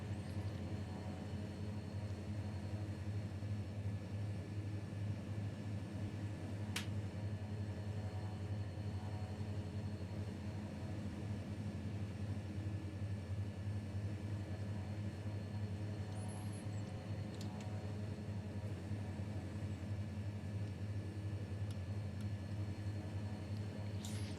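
Turboprop engines of a Fokker F27 drone steadily through a climb in Microsoft Flight Simulator 2020, a constant low hum with a strong tonal rumble underneath, faint and unchanging, with a couple of small clicks.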